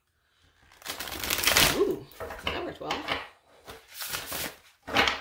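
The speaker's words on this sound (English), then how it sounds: "This could be complicated to shuffle." A tarot card deck, the El Goliath 2nd Edition, is shuffled close up in several rustling, papery bursts, with a brief spoken remark in between.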